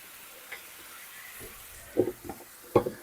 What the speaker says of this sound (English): Let the bacon crisp up a little bit before I stick the peppers and the onions in.